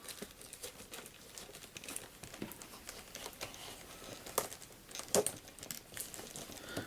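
Cellophane wrapper crinkling and tearing on a Star Wars X-Wing Miniatures Game Millennium Falcon Expansion box, soft close rustles throughout with a couple of sharper rips near the end.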